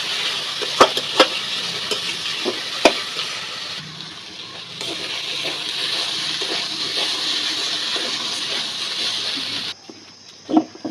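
Sweet, sour and spicy pickle cooking down in a pan, giving a steady bubbling sizzle with occasional sharp utensil knocks and scrapes, ending abruptly.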